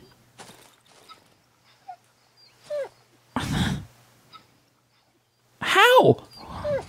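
A dog in the horror video game Darkwood gives a few short, sharp barks and whines, spaced apart, alongside a person talking.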